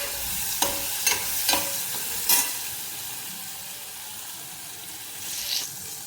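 Boiled cluster bean curry stirred in a pan with garlic, a few sharp scraping strokes of a spoon against the pan over a hissing background, near and fairly loud, with no speech.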